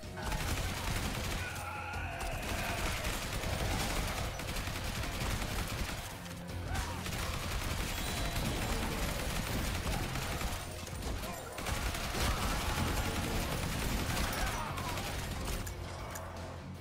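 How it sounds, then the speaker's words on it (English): Assault rifle fire in a zombie horde survivor video game: dense, continuous bursts of rapid shots blended with game effects, running loud for most of the stretch with a few brief dips. "Assault rifle first."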